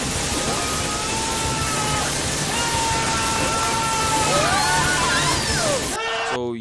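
Loud, dense Brawl Stars game sound effects pile up continuously, with gliding tonal zaps and whooshes layered over a wall of noisy clatter and impacts, ending abruptly.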